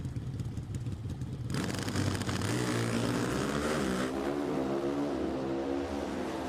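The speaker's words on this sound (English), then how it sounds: "Pro Stock Motorcycle All-Star Call-Out Final." Pro Stock drag racing motorcycles at an NHRA event in Sonoma, California, Matt Smith against Gianna Evaristo, idling then launching into a loud, rising high-revving engine roar that climbs through gears, close and sustained.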